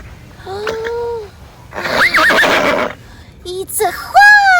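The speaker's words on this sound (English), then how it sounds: "it's a horse! It's a horse!" A horse on a farm whinnies in loud, wavering neighs, several calls spread across a few seconds with breathy snorts between them.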